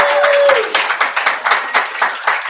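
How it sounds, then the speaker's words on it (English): An audience applauds at a school math night, a burst of clapping that thins into scattered, uneven claps over a couple of seconds, close and moderately loud, with faint voices underneath. "One more big round of applause."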